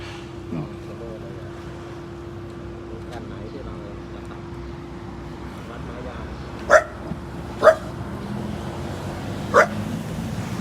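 A dog barks a few times in sharp, separate bursts, with people talking and a steady hum in the background, during a demonstration of a Milwaukee M18 cordless 9-inch concrete cutter.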